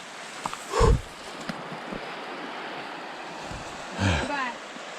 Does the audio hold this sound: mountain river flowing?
yes